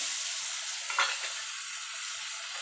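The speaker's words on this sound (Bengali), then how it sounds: "এবার মশলাটাকে একটু কষিয়ে নেব" A spice paste of cumin, coriander, dried chili and turmeric fries in a pan for a potato and eggplant pabda fish curry. It makes a steady soft hiss with one brief stirring scrape near the start.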